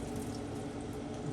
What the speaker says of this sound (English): drain that water off our chicken.